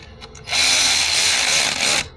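A 10mm socket on a power tool tightens the battery terminal nut on a 2025 Lincoln Aviator or Ford Explorer, a close, steady whirring burst of about one and a half seconds with no talk over it.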